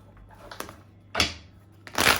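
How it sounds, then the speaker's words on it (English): Tarot cards being shuffled by hand, with a few soft riffling bursts separated by short pauses, close and fairly quiet. "I really like to take my time to shuffle the cards and really pick up the energy."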